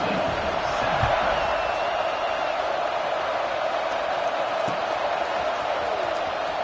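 Stadium crowd in the NCAA 26 college football video game roaring steadily at a kickoff, a dense continuous wash of cheering held at a constant level throughout.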